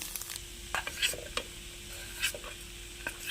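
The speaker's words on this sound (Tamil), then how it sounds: "இப்போ நல்லா கிளறி விட்டுக்கலாம்" Rice with egg and pepper gets stirred in a hot pan, with scraping spoon strokes and bursts of sizzling, fairly quiet and close, and no talking.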